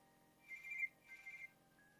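A telephone rings indoors in two electronic bursts of trilling tone separated by a short pause, fairly quiet and with no voices.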